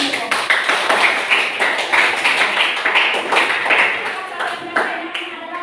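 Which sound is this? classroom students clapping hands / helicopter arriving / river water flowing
classroom students clapping hands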